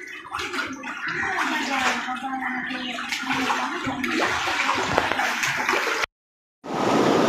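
Sutlej river floodwater rushing through Sensowal village in Ropar district, Punjab, a loud continuous gushing and gurgling flow, with a brief drop to silence near the end before the roar resumes.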